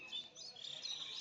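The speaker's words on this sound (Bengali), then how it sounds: "চুপচাপ, শুধু পাখিদের কিচিরমিচির ডাক।" Small birds chirp and twitter faintly on a quiet, foggy winter morning in a rural village, a few thin high calls over soft background hush with no other sound.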